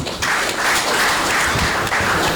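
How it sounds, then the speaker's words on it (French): A crowd at a party reception ceremony in Côte d'Ivoire applauds the governor of Gagnoa, with steady, dense clapping that fills the whole stretch at close range. "il faut l'applaudir"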